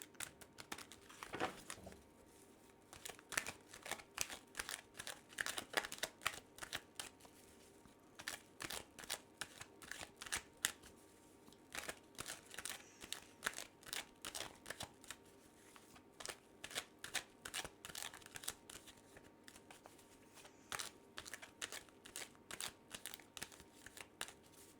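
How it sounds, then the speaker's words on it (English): A tarot card deck shuffled by hand in quick irregular bursts of riffling and flicking, close and crisp, with short pauses between rounds and no talking. "let's just go ahead and shuffle this deck"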